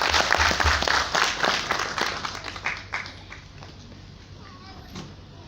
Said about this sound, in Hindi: अपने से भी हाथ ताली बजा करके उनका स्वागत